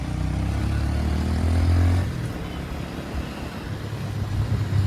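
Royal Enfield motorcycles pulling away, a loud close engine rumble with revving for about two seconds, then a lower, rougher idle and traffic noise as the bikes move off.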